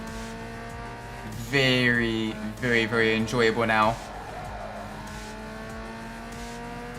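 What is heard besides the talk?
car engine with turbo blow-off valve, Need for Speed Underground 2 video game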